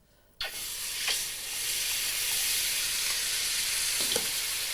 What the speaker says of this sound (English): when it's really hot you start by frying the thick coconut cream